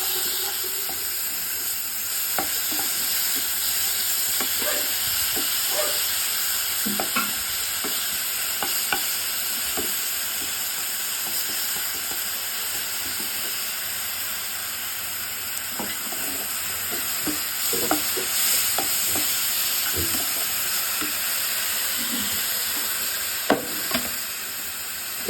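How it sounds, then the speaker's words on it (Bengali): Spice paste seasoned with salt and turmeric frying in a pan for a fish curry, with a steady sizzle under repeated scraping and stirring strokes from a utensil, close up and with no talk. "এবার এই মশলাটাকে আমি ভালোভাবে ভেজে নেব।"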